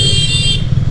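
Motorcycle moving through busy market traffic in Rishikesh, India, a steady low engine drone with a brief high tonal whine fading out midway, close and continuous.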